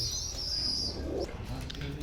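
Teddy pigeons, a top-quality breed pair, cooing softly close by over a low rumbling background, with a brief chirp in a short stretch of sound.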